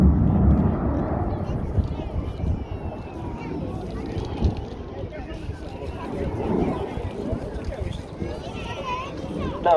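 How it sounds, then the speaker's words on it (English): A Saab jet flies a display at the Bray airshow in 2023, its broad, steady roar rumbling through the whole stretch beneath a commentator talking over it, with some wind buffeting. "Now, as well as being able to fly at up to 600 miles an hour, this aircraft can also do some slow flight"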